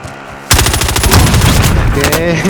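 Rapid automatic gunfire in a video game bursts in abruptly after a quiet half-second and continues as a loud, dense rattle of shots to the end.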